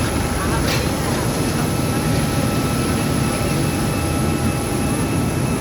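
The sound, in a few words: large airplane engine at airport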